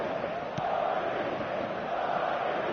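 Stadium crowd noise from a football video game, a steady broad roar of cheering fans filling the background without pause.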